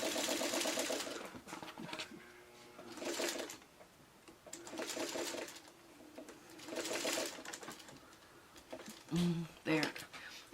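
Sewing machine stitching along a quilt's bias seam in several bursts of fast whirring stitches, up close, with pauses between runs and a person talking quietly over and between them.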